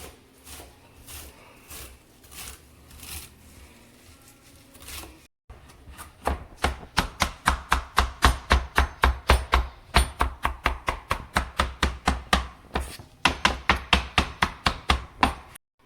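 A knife chopping cilantro finely on a cutting board, at first light and fast, then after a brief pause a long run of sharp, evenly spaced, close chops.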